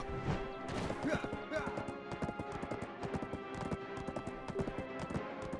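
Rapid hoofbeats of a galloping horse in the online game Black Desert, a quick irregular clatter running steadily throughout, no voices.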